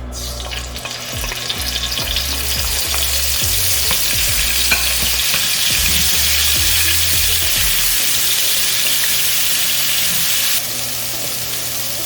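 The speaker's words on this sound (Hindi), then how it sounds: "अब इसके अंदर हम डालेंगे गार्लिक पेस्ट" Garlic paste fries in hot oil in a pan, a loud continuous sizzle close up with a few stirring scrapes and no talking.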